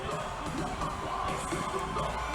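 A cage-fighting crowd at an Elite Cage Fighting main event roars and whoops continuously as the fighter enters, a broad steady wash of yells.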